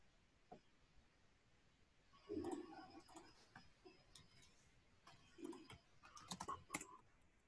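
Quiet, irregular bursts of clicking keys from typing on a computer keyboard at a desk, a few sparse taps followed by quicker clusters of keystrokes, close and soft.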